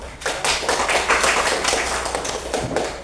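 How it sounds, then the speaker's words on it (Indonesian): A classroom applauds group 1 with a brisk, close burst of many hands clapping together, steady for a few seconds. "Berikan aplaus untuk kelompok 1"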